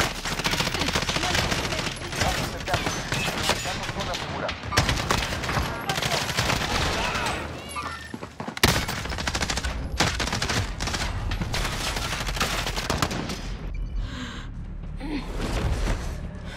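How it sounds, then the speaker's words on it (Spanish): Dense, continuous gunfire from a Warzone match, with overlapping rapid bursts and machine-gun fire that stay loud and sustained across the whole stretch, along with occasional gasps and brief speech. "¡Me están disparando!"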